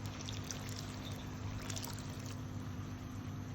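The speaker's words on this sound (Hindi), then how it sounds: "अब इसमें आधा कप पानी का शामिल करेंगे" Half a cup of water is poured into chana dal frying in a pan, a soft steady splashing and trickling pour over low hum.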